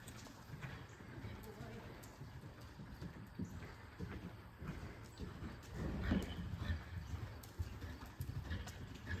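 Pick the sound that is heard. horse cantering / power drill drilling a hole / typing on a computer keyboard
horse cantering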